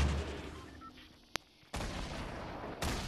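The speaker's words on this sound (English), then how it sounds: "Just fire a grenade and see." A grenade launched in a multiplayer shooter video game, heard as one brief sharp pop followed by a sustained burst of loud noise and a second burst near the end, with no talk.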